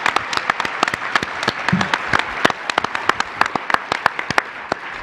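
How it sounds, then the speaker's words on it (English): A conference audience applauds in a steady patter of many hands, a moderately close round of clapping that holds evenly without voices. "I'd like to give a round of applause for the Physicians Foundation."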